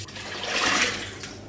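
Running water washing out a dirty cooker, a short close rush of water swelling and fading over a second and a half, with no voices.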